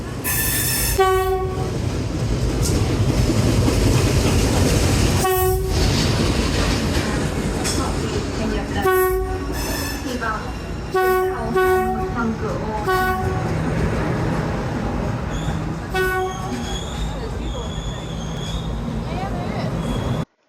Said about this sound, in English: the train was so close and all the buildings were like right beside